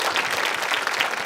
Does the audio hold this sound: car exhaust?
no